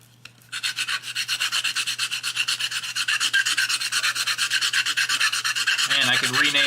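Sandpaper scrubs across a wooden diorama box in quick, steady back-and-forth strokes, a close, continuous rasping that starts after a brief pause and keeps an even rhythm, with a low hum underneath.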